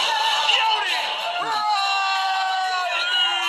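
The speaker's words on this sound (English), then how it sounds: "There's the crowd!" Live crowd at a Schmoedown movie-trivia event cheers and whoops in a steady, dense roar throughout, with shouts and chatter rising over the noise.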